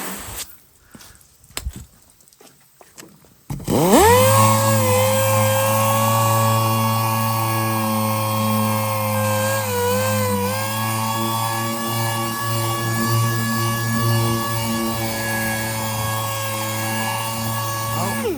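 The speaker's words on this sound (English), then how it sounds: "I'm gonna soak down the panel and then go over the whole thing with 1500 grit now." A dual-action sander wet sands a GMC Sierra truck bedside panel with 1500 grit paper, starting after a few quiet seconds and then holding a steady, close mechanical whine and hum with no talking.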